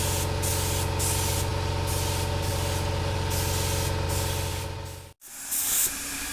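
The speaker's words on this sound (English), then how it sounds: "Here's the compressor running in the background here." An air compressor runs steadily while primer is sprayed onto the rear end housing of a Farmall Super M tractor's rolling chassis during a rebuild. A loud, continuous hiss sits over a low mechanical hum, briefly cutting out near the end.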